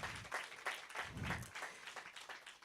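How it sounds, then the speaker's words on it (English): Quiet audience applause in an open-day crowd, rippling claps swelling in several waves and fading slightly toward the end, heard from a distance. "Can we give my mother a round of applause?"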